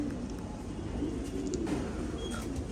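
Pigeons cooing softly in a loft during the rainy season, low steady murmuring coos under broadband background noise, fairly faint and continuous.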